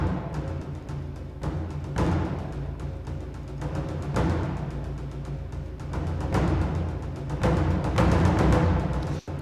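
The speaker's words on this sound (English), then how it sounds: "I used a solo taiko, which sounds like this." A solo taiko drum from the Hans Zimmer Percussion sample library pounds out a fast run of deep, booming hits in a driving rhythm, reverberant and full, swelling toward the end with no voices.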